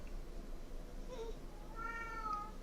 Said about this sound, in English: Now we have Konark meowing too.